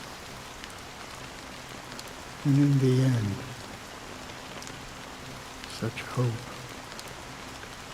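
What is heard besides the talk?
rain falling in the video game Honkai: Star Rail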